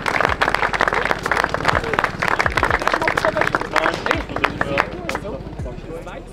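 A crowd applauds the podium finishers at a turbo-kart race in Wohlen, with steady clapping and light cheering. Someone talks loudly over the applause, and the clapping thins toward the end.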